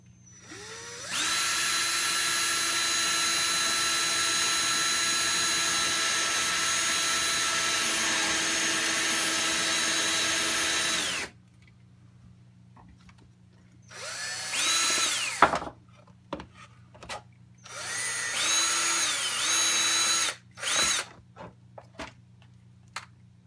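A power drill fitted with a stepped drill bit whines loudly and steadily for about ten seconds, then returns in several shorter bursts separated by brief pauses.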